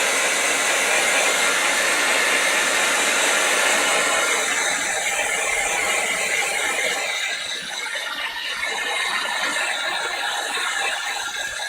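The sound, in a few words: heat gun blasting stained glass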